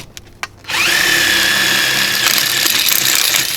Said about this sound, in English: I'm going to take my other 1/4 inch bit and drill for the handles.